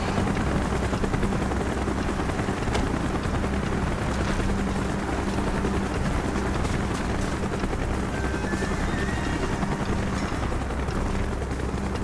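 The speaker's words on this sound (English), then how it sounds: "Chopper's inbound." A helicopter in Call of Duty Black Ops thunders continuously and close with a dense rotor drone, steady and loud throughout with faint mechanical clatter above it.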